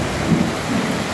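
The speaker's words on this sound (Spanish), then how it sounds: "Me da mucho miedo de los truenos." Thunder rolls through a rainstorm at a ranch as a low, steady rumble under a constant hiss of rain. It is brief and fairly loud, with no voices.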